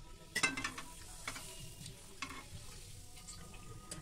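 Potato papad frying in hot oil over a low flame, a faint sizzle with a few sharp crackling bursts and light tong clicks early on, no voices.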